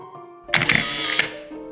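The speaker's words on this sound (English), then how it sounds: "You don't have to worry about transporting the film, a built-in motor does it for you." A Canon T50 film camera's built-in motor whirs as it advances the film after a shutter click, one short mechanical burst of about three-quarters of a second, close and clear against a quiet room.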